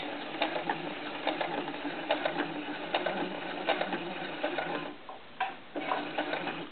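A sewing machine stitches bias tape along the edge of a cloth diaper for a 14-inch baby doll, a steady close mechanical whirring chatter that breaks briefly near the end before starting up again.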